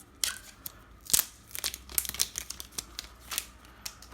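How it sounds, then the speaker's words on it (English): Plastic packaging crinkled and snapped while unboxing an Apple MagSafe 1 60W charger, close sharp irregular crackles and clicks in quick succession. "you guys want to hear a plastic sound"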